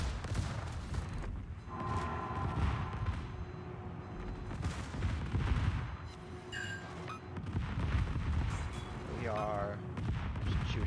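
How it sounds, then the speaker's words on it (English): Ship guns fire in World of Warships during an operation battle, booming salvos and heavy rumbling blasts mixed with game effects and beeps, with a voice talking over them. "Shooting our guns."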